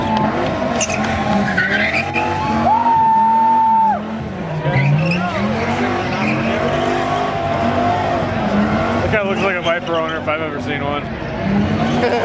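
A Dodge Viper with a V10 engine on fresh tires does a burnout, loud tire squeal and skidding over a roaring engine, with a rising pitched whine, while a crowd and commentators talk throughout.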